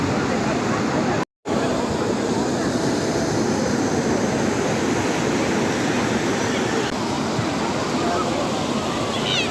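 Rough sea surf crashes steadily at a summer beach, a loud continuous roar of breaking waves and wind with a brief dropout near the start and no talking.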